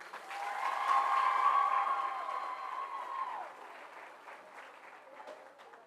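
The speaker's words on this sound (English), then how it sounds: "Everyone, please give a round of applause for senior cheerleader Madeline Robinson." Audience applause with some cheering fills a gym at a girls basketball senior night at Oak Hill, honoring a senior cheerleader; the clapping swells for about three seconds, then tapers to a scattered, fading patter.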